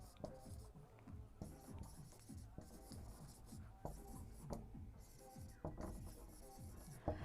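Writing a sentence on a board in a classroom, with faint, close scratching strokes in quick bursts and short pauses, running continuously under a quiet background.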